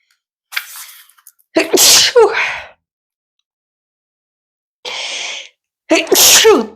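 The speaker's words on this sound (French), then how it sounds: "je crois que je vais éternuer" Two sneezes, each preceded by a sharp inhaled gasp, loud and close, separated by a few seconds of silence.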